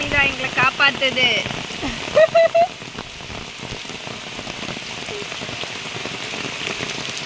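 Heavy rain pours down steadily at Mirjan Fort in Karnataka, a dense, constant hiss close to the listener, while someone talks loudly over it at the start.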